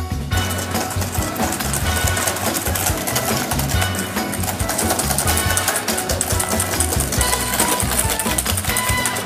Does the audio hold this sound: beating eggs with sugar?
yes